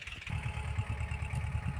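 A tractor engine chugs steadily in a field during maize sowing in light drizzle, a low rhythmic throb at moderate distance, with no talk.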